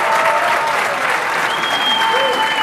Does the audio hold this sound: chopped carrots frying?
no